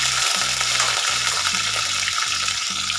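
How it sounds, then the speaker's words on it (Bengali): Diced tomatoes and two green chillies fry in hot oil in a pan, a loud, close, continuous sizzle with rhythmic scraping thuds of stirring, with no talking. "ওই তেলেই দিয়ে দিচ্ছি আমি চৌকো করে কেটে রাখা টমেটো এবং 2টো কাঁচা লঙ্কা"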